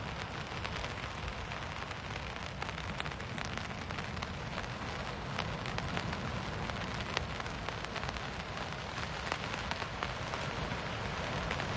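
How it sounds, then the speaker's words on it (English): Steady rain patters densely on an umbrella at Cottesloe Beach in Australia, a constant close, even hiss of drops with no talking. "Rain on the umbrella is a lovely sound, isn't it?"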